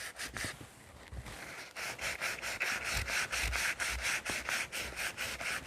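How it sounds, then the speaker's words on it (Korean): Sandpaper rubbed over the cut edges of a glued wooden speaker body, a close, steady run of rhythmic scratchy back-and-forth strokes with no voices. "그러면 사포를 가지고 이 단면들을 이렇게 문질러 주도록 하겠습니다."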